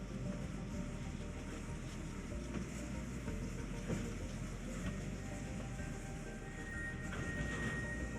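A freight train in a Trainz 2019 railway simulation rumbles steadily as it pulls away, a continuous low mechanical roar with faint higher tones and occasional squeals, no talking.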